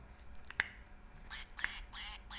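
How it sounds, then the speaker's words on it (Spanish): A duck quacks twice, with a short harsh squawk and a second call about a second later, close but faint against a quiet background. "Un momento, esto es un pato."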